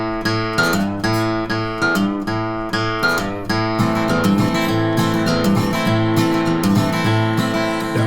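A guitar in standard tuning plays a song, with steady, evenly strummed chords and picked bass notes, close and clear and alone without any voice.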